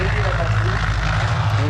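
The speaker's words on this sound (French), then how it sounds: "Et ils volaient dans ces avions qu'on appelle les Junker. C'est un Junker 52." Junkers 52 propeller aircraft flying at an air show at Pontoise, giving a steady, droning engine hum with low tonal throb, with voices talking over it throughout.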